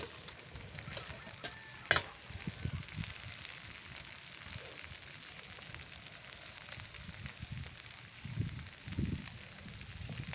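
Fried vegetables being stirred with spices in a pan for Bengali shukto, giving a low, steady sizzle with scattered soft scrapes and one sharp clink from a spoon, fairly quiet throughout.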